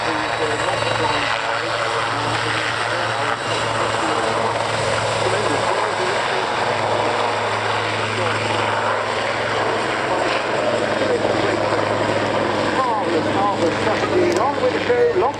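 Royal Navy Lynx helicopter flying a display at Waddington, its engine and rotor giving a steady, loud roar throughout, with a commentator talking over it.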